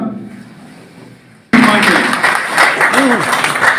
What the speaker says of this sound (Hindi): हम लोगों के ताली की आवाज यहाँ से जिला तक गूंजनी चाहिए।